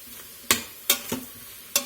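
A spoon scrapes through Creole jambalaya with onion powder and garlic powder sizzling in an Instant Pot: a low steady sizzle broken by three or four quick, sharp stirring strokes, close and without talk.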